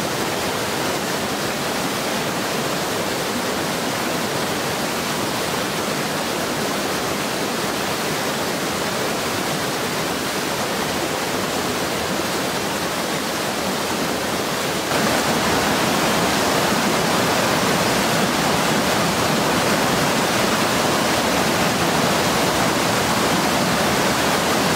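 A river flowing beside a campsite gives a loud, unbroken rushing hiss that stays constant throughout, with no voices.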